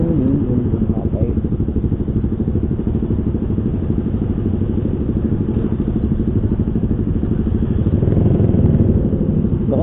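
A motorcycle engine runs steadily up close for the whole stretch, a dense mid-low throb that swells slightly near the end, with someone talking over it.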